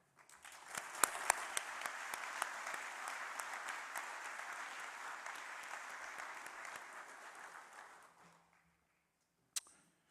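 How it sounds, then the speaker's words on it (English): A crowd of graduates and guests at a university graduation ceremony in Waterloo claps in sustained, even applause with a few sharp louder claps, then it fades to near silence before one last isolated clap. "Please join me in a round of applause to recognize each other, our graduates and guests"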